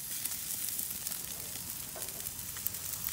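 Pork chops sizzle on a grill just after being flipped, a steady close hiss and crackle of frying fat that runs unbroken throughout, with a few faint clicks and no voices.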